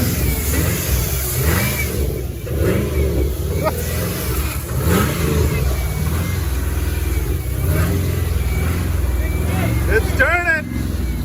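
An LS V8 swapped into a snowcat runs rough and loud, revving up and down in repeated surges, with people talking over the engine noise.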